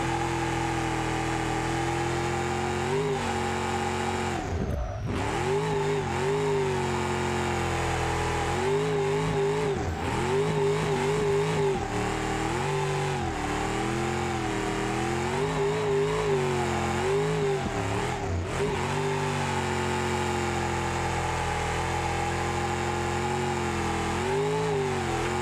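A car engine in the BeamNG video game holding high revs and bouncing off the rev limiter, a loud continuous drone with stuttering cut-outs and brief dips as the throttle lifts and returns.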